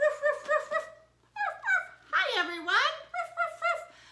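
A children's teacher playfully imitates a dog, voicing several quick 'ruff' barks in short bursts, close and clear, mixed with bright sing-song speech.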